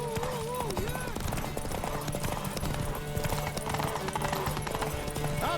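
A horse galloping in the video game Witcher 3, steady rapid hoofbeats running under a character shouting, with background music.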